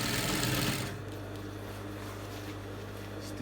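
Sewing machine stitching around a senator placket (front flap) on a garment, a loud steady whir for the first second, then dropping to a quieter steady mechanical hum that continues alone.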